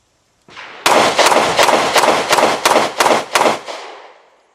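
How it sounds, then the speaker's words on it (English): Rapid string of about eight sharp, loud pistol shots from a Girsan MCP35 LW, a compact Hi-Power style handgun with an aluminum frame and shorter slide, fired close by in quick, even succession. "it's a really sweet shooting gun."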